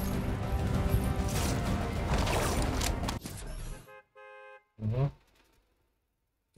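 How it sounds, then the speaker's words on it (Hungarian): A car horn honks in the Fortnite video game, with a few short tonal toots following a loud, dense crash of game noise that cuts off abruptly. "ne dudálj el."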